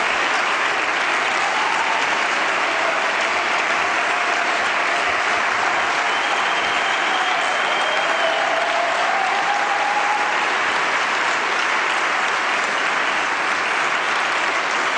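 Sustained applause from an audience at a human rights award ceremony, a dense, steady clapping that runs unbroken and fairly loud throughout, with no speech over it.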